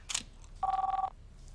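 A telephone rings in a TV show: one short electronic trill burst, loud and close, preceded by a brief hiss-like click, with no talk over it.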